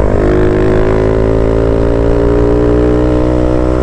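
A Honda CB300 motorcycle engine runs hard at high revs, its loud steady harmonic drone climbing slightly in pitch, heard close up with constant wind rush and no talk.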